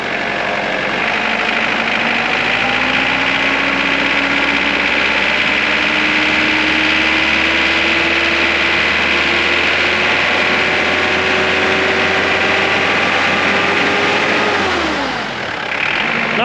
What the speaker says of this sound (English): you can hear that diesel clatter as well at idle and also all the way through the rev range